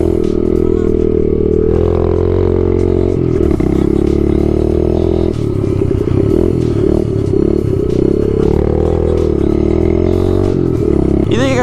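A cold pit bike engine idles and burbles loudly nearby on a chilly 40-degree day outdoors, a continuous rough throbbing roar with slight rises in revs throughout.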